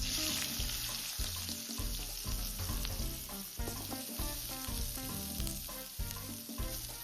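Chopped onions frying in a pan for a village-style leafy greens stir-fry, a steady close sizzle running throughout, with clear background music playing over it.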